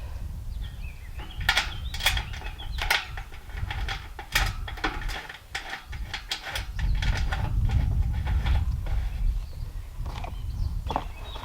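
A nut is tightened onto a bolt with a small hand tool outdoors, giving sharp, irregular metallic clicks and ratcheting scrapes at close range over a low background rumble.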